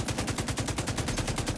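Rapid automatic gunfire from a player in the shooter game TTT, a steady stream of about a dozen shots per second, loud and unbroken throughout.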